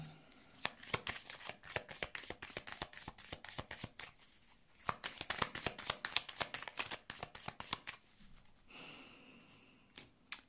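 Tarot cards are shuffled and drawn in rapid bursts of crisp riffling clicks, close and quiet, with short pauses between rounds and no voices.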